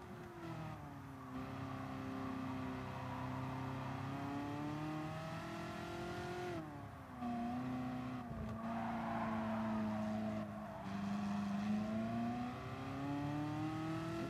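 A race car engine in Gran Turismo Sport hums steadily at moderate distance, its pitch rising and dipping through gear changes as the car pulls away on a new track, with no talk over it.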